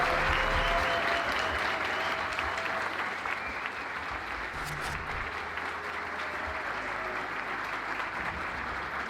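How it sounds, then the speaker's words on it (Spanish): An audience at a science and cosmovision talk in Uruguay applauds Dani, a steady, dense wash of clapping that holds at an even level for the whole stretch, with faint murmurs underneath. "un aplauso para Dani también."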